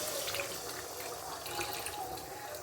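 Hot water pours steadily into a pot of potatoes being cooked for aloo dum, a continuous, soft splashing trickle heard close up and fairly quiet throughout.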